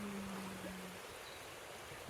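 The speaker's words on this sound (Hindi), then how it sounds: "यहाँ तो पूरी नदी है." A river flows steadily in a broad, continuous rush of water, heard from nearby over a mountain valley between Thimphu and Punakha, with a brief faint tone early on.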